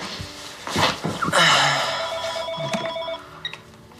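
A telephone ringing indoors in a family home, a few bright electronic ring bursts close by, mixed with brief noises and a little background sound.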